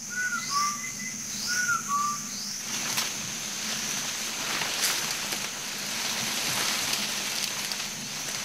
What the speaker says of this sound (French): À leurs appels, dans le lointain, un sifflet répond.